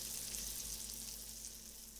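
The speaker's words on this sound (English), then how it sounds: "That cast iron and the butter, that's going to brown it up real nice." Maine red snapper hot dogs frying in butter in a cast iron pan, giving a steady, soft hiss of sizzling fat with a low hum underneath, no talking.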